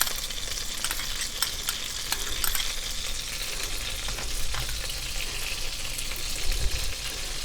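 Three tablespoons of butter sizzle and fry steadily in a pan for dal makhani, a continuous close crackle with light stirring and no talk.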